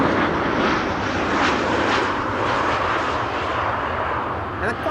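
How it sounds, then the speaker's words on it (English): A Boeing 747 jet departing Amsterdam Schiphol, heard as a steady, broad engine roar that holds at full strength throughout, with no breaks and some faint talk mixed underneath. "3 747 departures quickly after one another."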